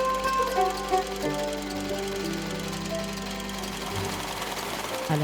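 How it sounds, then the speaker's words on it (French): Sewing machines run steadily in a women's cooperative workshop in Niger, a continuous mechanical whir and rattle heard throughout. A voice speaks over it. "À l'intérieur, les machines à coudre rythment leur journée de travail."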